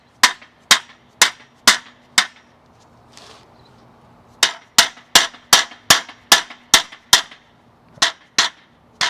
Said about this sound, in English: you're going to have to whack the lug bolts in